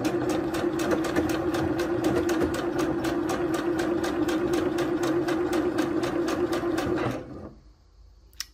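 A sewing machine stitching a T-shirt with contrasting thread runs at a fast, even clatter for about seven seconds, then stops abruptly into near silence.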